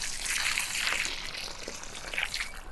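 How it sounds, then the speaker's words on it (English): Water pours steadily onto freshly planted ground in a garden, making a continuous close splashing and trickling hiss that lasts throughout, with no talking. "let's get some water on that and then it's job done"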